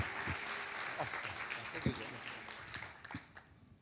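An audience at a gospel seminar applauds a pastor taking the floor, steady mid-distance clapping with scattered louder claps and voices chattering over it, fading slightly toward the end.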